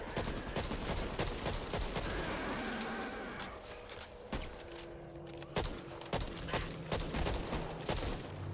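M14 rifle fire in the co-op zombie shooter Back 4 Blood, heavy close shots cracking out in a fast, steady string, then thinning into scattered bangs and impacts as the firing winds down.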